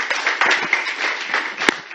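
An audience at an international women's rights conference claps in a brisk, continuous patter of many hands, fairly close and steady for a couple of seconds.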